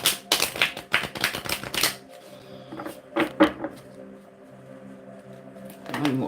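Tarot cards are shuffled by hand in a rapid burst of crisp riffling flicks at close range, then a few soft card taps follow over a faint background hum.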